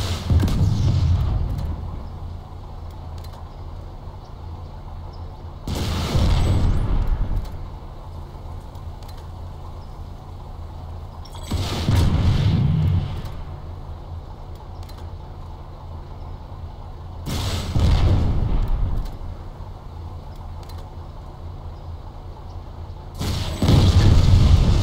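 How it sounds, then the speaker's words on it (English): M9 Skep launcher rockets striking a Sunderer vehicle in a video game: five heavy booming impacts spaced about five seconds apart, each a deep rumbling blast that fades out, with low engine drone between hits. "it takes 5 rockets from the M9 Skep launcher to kill a Sunderer"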